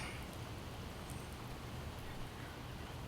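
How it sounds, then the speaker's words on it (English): Steady hiss of rainfall in a video game (Project Zomboid), even and continuous with no breaks, a soft broadband wash at moderate level. "And it's raining! Hooray! We'll get all wet, but that's okay."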